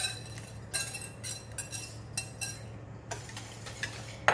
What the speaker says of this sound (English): So I'm going to mix it together with the mixture here.